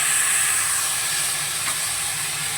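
A paste of ground ginger, cumin and green chili hits hot oil for a fish curry, giving a loud, continuous hiss that holds steady throughout with no talk.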